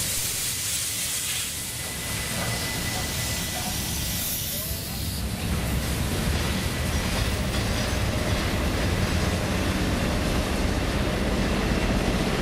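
Locomotive 3642 and its train rumble steadily into Hurstville Station, New South Wales, with hissing and rattling wagons, the noise broad and continuous, growing denser as it rolls closer.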